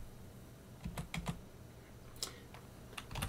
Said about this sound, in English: Now in this terminal, type ls-la